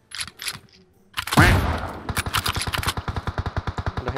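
Rapid bursts of automatic gunfire from the mobile battle royale game PUBG Mobile on the Erangel map, a few early shots then a dense, evenly spaced volley of loud cracks running steadily to the end.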